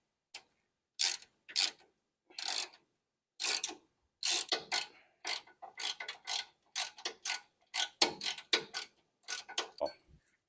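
Ratchet wrench tightening a ball joint nut on a 1966 Chevy Impala suspension, heard as a series of sharp, close clicking bursts in quick irregular runs with brief pauses between strokes.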